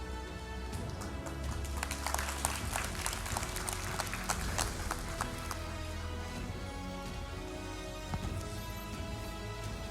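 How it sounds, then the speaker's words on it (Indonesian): Steady applause from an award ceremony audience, dense continuous clapping at moderate level throughout, with music playing underneath. "Sekali lagi kita berikan tepuk tangan untuk penghargaan Excellent Mom in Digital Transformation Leadership."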